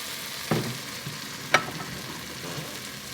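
Onion and garlic sizzle steadily in a pot, a soft continuous frying hiss with a couple of sharper pops or stirring clicks rising above it, close and fairly quiet.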